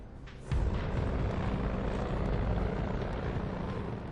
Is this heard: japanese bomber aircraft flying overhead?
yes